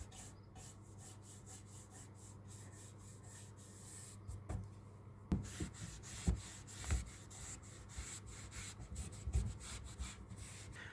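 Chalk paint wax being wiped off the edges of furniture drawers, soft rubbing and scuffing strokes with a few light knocks of wood, close and quiet.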